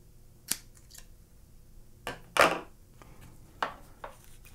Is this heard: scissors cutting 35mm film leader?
yes